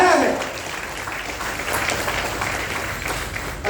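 Audience applause for a team after a demonstration at a health talk, a sustained wash of clapping from a crowd lasting several seconds, fairly loud and even.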